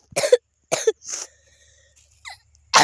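A person with a cold coughs in three or four harsh, close bursts, followed by a short throat-clearing sound and quiet pauses in between.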